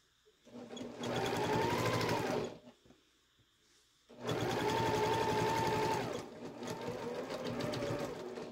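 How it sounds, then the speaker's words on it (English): A sewing machine stitches along a folded fabric edge while a triangle pouch is being made. Two loud close runs of steady whirring are split by a brief pause, and a softer stretch of stitching follows. "I'm just kind of folding it as I go over the edge and stitching"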